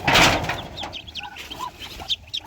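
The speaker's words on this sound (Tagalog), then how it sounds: "Oh, dami sisiw." Chicks peeping near ducks on a farm, several short high chirps scattered over a soft background with a brief rustle at the start, close and moderately loud.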